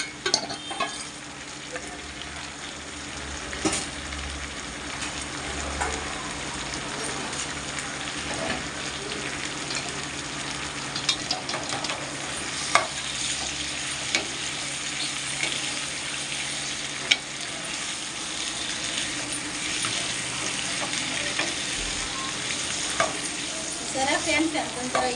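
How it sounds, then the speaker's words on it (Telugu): Large Godavari prawns cooking with capsicum in a curry, sizzling steadily in a hot pan while being stirred, with continuous frying crackle and occasional utensil scrapes and clinks throughout, no talking. "క్యాప్సికమ్ వేసి కర్రీ చేస్తున్నాను."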